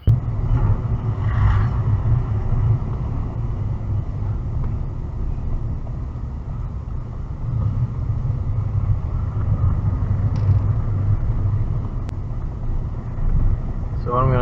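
A Nissan D40 Navara on a test drive after a differential, gearbox and transfer case oil change: a steady low engine and road rumble with wind noise, continuous and close throughout.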